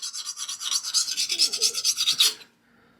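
A 60 HRC hardness-test file rasps across a hardened steel knife edge in rapid back-and-forth strokes, a close, gritty scraping rhythm that stops abruptly, followed by near silence.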